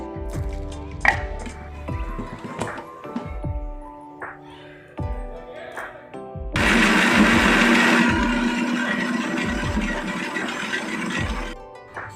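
A mixer grinder whirs loudly for several seconds, coarsely grinding mustard seeds, cumin and other raw mango chutney ingredients in a mixie jar, after earlier knocks and clatter as items are dropped in.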